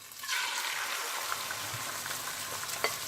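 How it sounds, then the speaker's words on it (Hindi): Egg frying in a hot pan while making an egg paratha roll, a steady, close sizzle with small crackles and pops running throughout, no voices over it. "गया अंडा आपका फ्राई होने के लिए"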